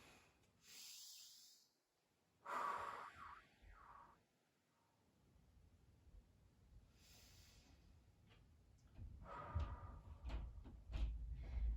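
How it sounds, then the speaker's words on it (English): Slow, deep breaths during a standing yoga flow with blocks, a few soft inhales and exhales spaced apart, quiet and close with faint room rustle between them. "We're going to take a few deep breaths here."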